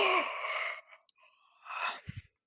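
A voice imitating a yawn: a long breathy exhale that fades out, a quiet pause, then a second rising breathy sound ending in a few short low grunts.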